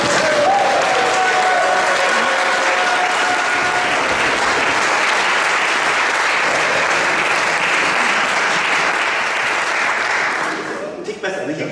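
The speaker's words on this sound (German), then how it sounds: "einen riesengroßen, nicht abstoppenden, frenetischen Applaus" A magic-show audience at a magic club's 65th-anniversary event claps in a long, loud, dense burst of applause that carries on steadily for about ten seconds before tapering off.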